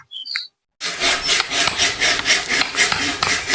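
A tool works a hole into bamboo wood to fit a bearing, giving rhythmic rasping, scraping strokes that start after a brief quiet moment and repeat steadily, close and fairly loud.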